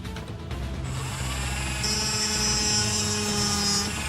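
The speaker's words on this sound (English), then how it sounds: "I don't want to blind you guys with this sound, this Dremel." A Dremel rotary tool carves into a 1/60 scale model, its high-pitched motor whine holding steady and rising as the bit bites into the material, close and loud with no talking.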